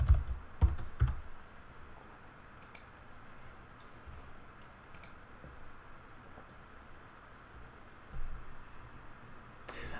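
A few quick keystrokes tap out a root password on a computer keyboard, followed by quiet near-silence with faint clicks and a soft tap near the end.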